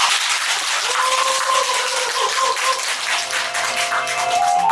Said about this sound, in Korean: 큰 박수로 환영해드립니다.